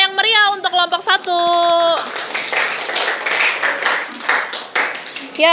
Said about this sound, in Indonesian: Beri tepuk tangan yang meriah untuk kelompok 1.